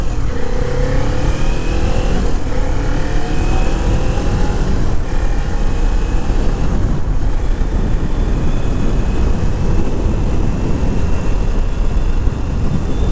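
A 400cc motorcycle being ridden and accelerating, its engine roar steady and loud throughout, blended with heavy wind rush, with no talk.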